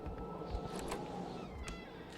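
A pet cat named Shango meows faintly over a soft background rumble, with a few short calls spread across a couple of seconds.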